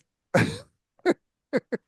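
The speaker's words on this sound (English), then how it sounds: "Your eyes are turning bloodshot red from that cough" A few harsh coughs, one long raspy burst followed by three short sharp ones, close and loud with quiet gaps between.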